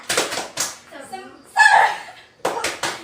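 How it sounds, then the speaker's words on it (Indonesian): Schoolchildren perform a rhythmic group spirit clap (tepuk semangat) in a classroom, with quick bursts of hand claps at the start and end around a spoken chant in between. "Tepuk semangat."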